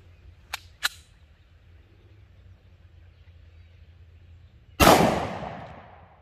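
A 3.8-inch XDM 10mm pistol with an extended 15-round magazine fires: two faint sharp clicks early on, then one loud, close report with a long decaying tail.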